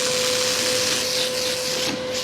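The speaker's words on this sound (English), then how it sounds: "Now I'm using my trusty Awaza Pondovac 5 here, which is very efficient at picking up silt," An Oase Pondovac 5 pond vacuum runs while sucking silt, leaves and debris off the pond bottom. Its motor gives a steady, close drone with broad hiss and a constant high whine, with no voices over it.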